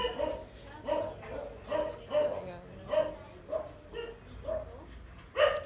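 Dogs bark in the quarantine area of an animal shelter, a series of about seven evenly spaced, moderately loud barks roughly a second apart, with the last one sharper and closer.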